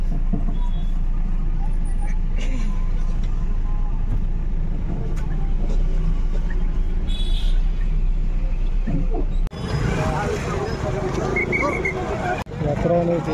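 Road traffic passing near a crowded Hanuman temple during a fair at Changapur, a steady loud rumble of cars and buses with engine noise throughout, growing denser and brighter in the last few seconds.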